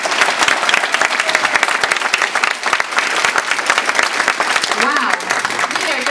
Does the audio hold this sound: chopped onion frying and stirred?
no